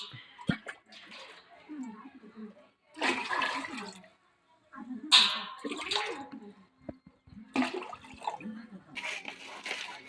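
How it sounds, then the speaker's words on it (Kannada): Water is poured from a jug into a cooking pot for vermicelli in several separate splashing bursts with quiet gaps between them, heard close and fairly soft. "ಮೊದಲು ನೀರು ಹಾಕ್ಕೊಳ್ಳಿ, ಒಂದು ಚೊಂಬಷ್ಟು."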